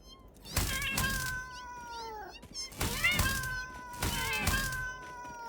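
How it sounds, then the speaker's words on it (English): Cats in the video game Satisfactory let out three bursts of loud, overlapping meows in quick succession, each a cluster of drawn-out yowls, with faint clicks between. "those cats are gonna get real annoying real fast"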